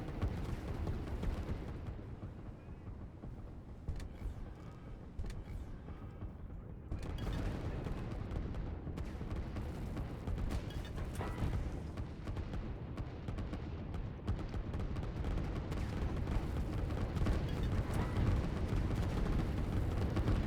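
Artillery fire in the strategy video game Line War, heard as loud, continuous rumbling barrages with dense booms that swell and grow heavier toward the end, with no voice over them.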